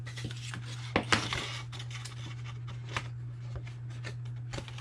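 Scissors snip at an angle through paper box pieces in a run of crisp, close cuts and rustles over a steady low background hum.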